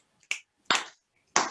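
Three sharp finger snaps ring out alone, spaced unevenly about half a second apart, close and crisp with quick decays and silence between them.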